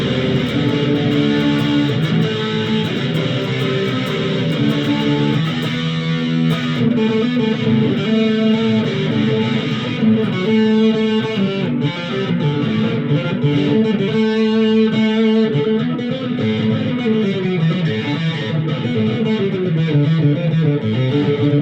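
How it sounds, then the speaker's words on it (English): Electric guitar played through a Blackstar ID Core amp on its mild crunch distortion channel, a continuous lightly driven riff of chords and single notes, loud and alone. "now let's try the mild distortion channel"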